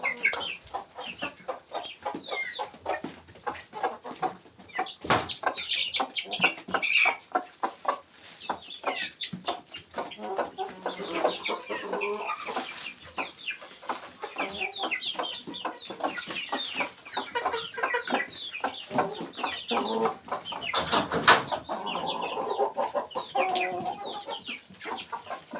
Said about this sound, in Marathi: कोथिंबीर घातलेली आहे कोंबड्यानं. ही बघा कोथिंबीर कशी खातायत पटापट